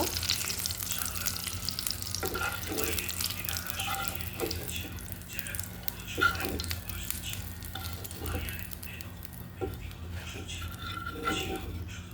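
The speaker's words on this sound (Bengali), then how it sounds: "পেঁয়াজগুলো আগে আমি বসিয়ে দিচ্ছিলাম, এভাবে ভাজা হয়ে গেছে।" Onions fry in a pan with a steady, fairly loud sizzle throughout and occasional stirring scrapes, close by, with no talking.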